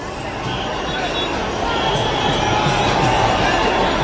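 A vast festival crowd packs the main road at Puri during the Rath Yatra 2025 chariot procession, making a dense, continuous roar of noise with a voice talking over it.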